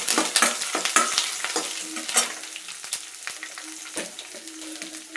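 Roasted peanuts sizzle in a hot pan as they are added for palak dal khichdi. Close, continuous frying hiss is broken by repeated scraping stir strokes at an uneven rhythm, with no voices.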